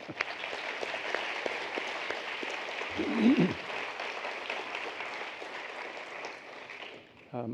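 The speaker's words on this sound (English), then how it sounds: "Give him a round of applause." Audience applause at a university forum staging mock US presidential debates, steady dense clapping filling the room for about seven seconds, with a brief low murmur midway and a cutoff near the end.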